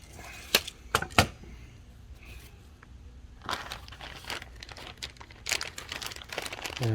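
Sharp snips, crinkling and crunching come from cutting a plastic floating plant barrier for a koi pond, several distinct clicks early on and then rustling plastic handling, close and fairly quiet.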